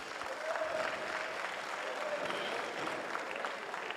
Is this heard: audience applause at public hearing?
yes